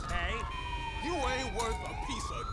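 Wailing ambulance siren in the video game GTA 5 during a civilian police mod traffic stop, a loud sweeping wail sounding close, with people talking over it.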